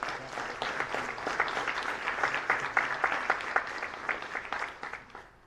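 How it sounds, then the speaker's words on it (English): A room full of people applauding, a steady patter of clapping that fades out toward the end. "a round of applause as well"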